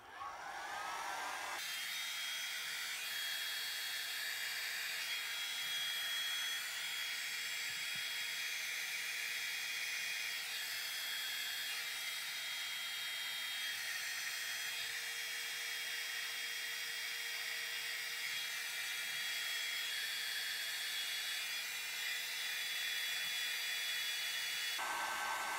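A heat tool runs steadily on low heat to dry alcohol ink, giving a loud, continuous whirring blow that starts abruptly and holds constant for about 24 seconds with no talk.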